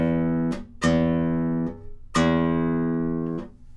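A nylon string on a classical guitar, the low sixth string plucked with the fingernail in a neutral hand position, giving three close, ringing low notes that each decay slowly, with a faint scratchy attack at each onset.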